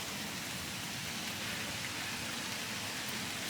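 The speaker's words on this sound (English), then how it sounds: "It's pouring down rain on us." Heavy rain pours down outdoors in a steady, dense, unbroken hiss that fills the whole stretch, loud and close, with no voices over it.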